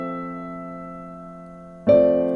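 Piano sustains a held chord of single notes that slowly decays, then a new chord is struck firmly near the end, clear and close with no talking.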